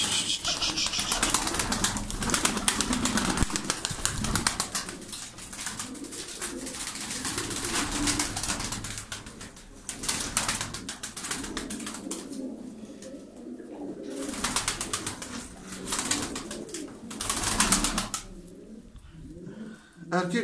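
Tumbler pigeons in a loft coo softly and repeatedly while wings flap in short bursts, with a voice talking intermittently over the birds.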